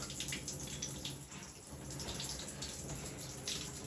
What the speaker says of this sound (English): You can see there's still water coming out